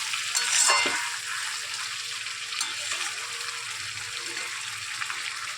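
Meat and tomato braising in a pan, a steady close sizzle with occasional stirring scrapes, loudest early on and then settling to an even hiss.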